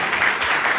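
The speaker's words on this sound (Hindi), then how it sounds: "जोरदार ताली।" A crowd at a business plan meeting in Samastipur breaks into applause, a brief, loud burst of many hands clapping together.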